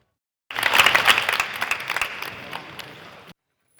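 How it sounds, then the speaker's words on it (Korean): A short burst of applause from a group of firefighter exam candidates after a race, loud at first and then gradually thinning out before stopping abruptly. "경쟁 관계지만 박수로 격려합니다."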